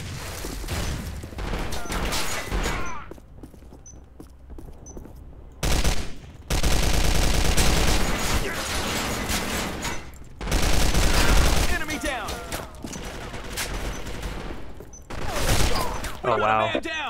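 Bursts of Kriss Super V automatic gunfire in the online shooter Arctic Combat, loud rapid fusillades in several separated volleys with game sounds between them and players talking over the action.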